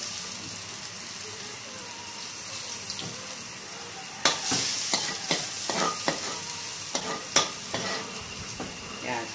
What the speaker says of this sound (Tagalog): Una kong igigisa itong garlic.